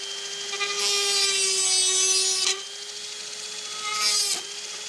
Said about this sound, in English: The old Dremel.